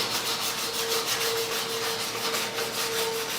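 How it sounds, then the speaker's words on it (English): Excess colored tissue paper covering a model wing is sanded away with steady, even strokes, making a close, continuous rhythmic scratching with no voices. "Same way, just sand away the excess."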